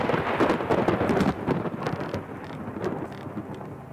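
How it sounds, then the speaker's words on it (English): Scripted thunder in the Thief fan mission The Black Parade, a loud rolling rumble with sharp cracks over steady rain, fading slightly toward the end, with no talk. "It's scripted thunder."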